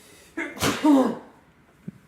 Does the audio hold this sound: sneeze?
yes